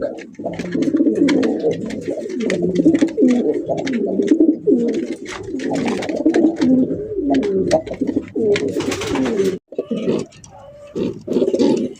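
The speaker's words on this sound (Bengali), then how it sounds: "আরে ভাই, ডাক দেখেন একদম মাশাআল্লাহ ডাক।" Several Kaldom high-flying pigeons coo steadily and loudly up close in a breeding loft, overlapping calls filling nearly the whole stretch with one brief gap, no talk.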